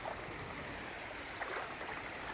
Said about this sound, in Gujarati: જો તમે કેટલું પાણી જાય છે